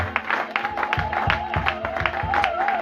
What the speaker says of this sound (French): Donnons des acclamations pour le Saint-Esprit.